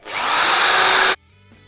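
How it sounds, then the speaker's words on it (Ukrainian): A 550 W electric drill runs loud and steady for just over a second, then cuts off abruptly, leaving near silence with a faint click at the end. "На ватметрі в нас по нулям запускаємо цю дрельку 550 Вт."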